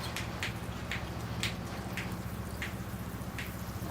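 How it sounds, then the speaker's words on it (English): Water splashes and patters steadily over a bonsai ficus benjamina and its soil, with irregular drips and droplet taps over a constant low rush, fairly faint and without talk. "it's time to rinse the tree off now"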